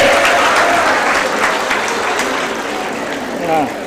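Audience clapping in a lecture hall during a speech in Karimnagar, a steady wash of applause running the whole few seconds with a slight swell near the end.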